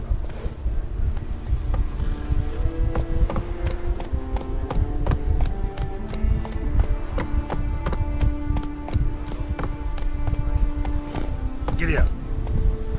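Horse hooves gallop in The Witcher video game, a fast steady clip-clop rhythm running throughout at close range, with a voice speaking over the hoofbeats.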